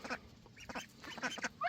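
Several ducks quack in quick, uneven bursts close by, with soft, nasal calls overlapping in a brief, quiet flurry.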